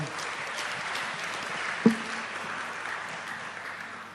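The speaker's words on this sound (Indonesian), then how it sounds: "kita beri aplaus lagi untuk jawaban beliau" Applause from a seated audience at a university talk in Yogyakarta, a steady even wash of clapping that carries throughout, with one sharp knock partway through.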